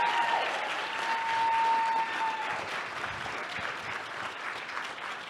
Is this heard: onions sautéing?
no